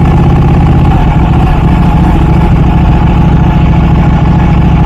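A Porsche Turbo engine rumbles loud and close with a steady, deep idle that holds even throughout, with no voices.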